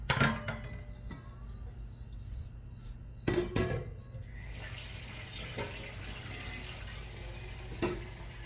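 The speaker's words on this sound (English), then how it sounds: "I'm going to fill it up with water now." Tap water pours into a pasta pot for clams and linguine in a home kitchen, a steady close rushing hiss that starts a few seconds in after some light clatter and carries on to the end.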